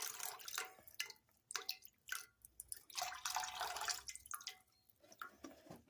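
The last drops of chicken broth drip and trickle off a big lifted skillet, a quiet, irregular run of small patters and splashes heard close up with no talking.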